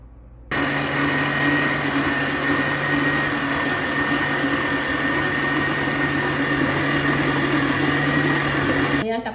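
A steady electric mixer whirs through cheese-flavoured dough, a constant motor drone with a tonal hum that starts abruptly and runs unbroken until it cuts off near the end.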